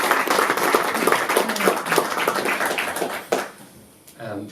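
A crowd claps in a dense patter that tapers off, with a person speaking over it near the end.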